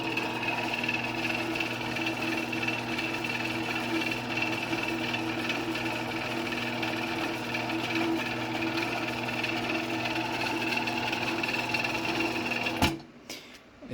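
A Genie Model 209 chain drive garage door opener runs with a steady mechanical drone and rattling hum at an even level, then cuts off abruptly near the end with a clunk as it hits the stop bolt.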